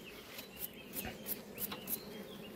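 Honey bees buzzing around a honeycomb frame of acacia honey during extraction, a faint, quiet hum with a few soft passing buzzes and occasional small clicks, no voices.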